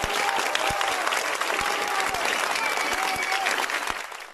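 Doctors applauding in protest as a colleague's attacker, a specialist sergeant, is detained by police, a steady, fairly loud crowd clapping with occasional sharp nearby claps and faint voices and whistles mixed in.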